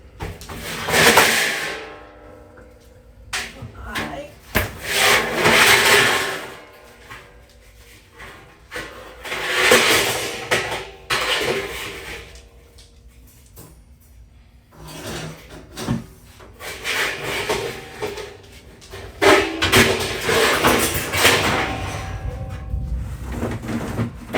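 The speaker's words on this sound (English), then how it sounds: "We need to move the chairs." Wooden chairs scrape and drag across the floor in repeated loud bursts, with brief pauses between each push.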